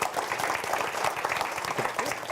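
A crowd applauding panelists at a policy evidence event, dense steady clapping that stays loud throughout with no pauses.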